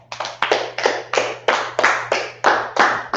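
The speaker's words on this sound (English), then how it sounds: "All right, clap it up." Claps from an online Hebrew speaking class ring out alone, about ten loud, sharp, evenly spaced hits with a steady hum beneath.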